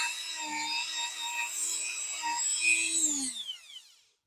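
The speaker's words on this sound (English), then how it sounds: "I'll go ahead and get that rust off of there with the Dremel" A Dremel rotary tool grinds rust off a metal part, a high whining buzz that holds steady with slight pitch wobbles, then winds down as the motor spins to a stop.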